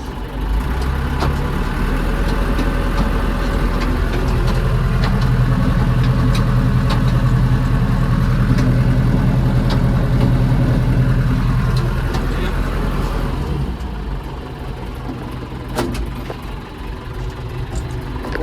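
A heavy diesel tractor engine runs loud and close, its pitch rising and holding as it revs, then easing back toward a lower idle near the end.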